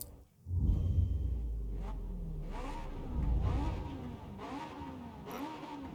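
A time attack race car in a racing video game on the Fujimi Kaido course, its engine roaring up through repeated revving surges, loud and close, with no talking over it.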